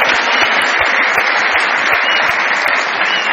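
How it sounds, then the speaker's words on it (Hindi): Dense, loud, continuous applause from a studio audience on a Pakistani comedy talk show, steady and sustained throughout. "बहुत सारी तालियां बजाइए"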